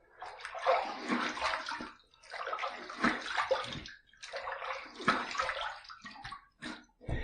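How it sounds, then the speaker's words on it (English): Cold water splashed onto a face to rinse it after shaving, sloshing and splattering in several quick bursts with short pauses between, close and fairly loud. "Let's rinse. Let's throw some water on there and see where we're at."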